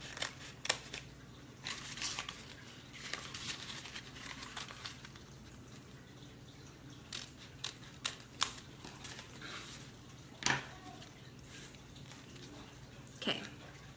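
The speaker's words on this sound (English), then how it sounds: "So I will take my contact paper again, measure it out and cut it." Scissors snip through contact paper in a quiet room, several sharp, separate cuts spaced irregularly among soft crinkling of the sheet.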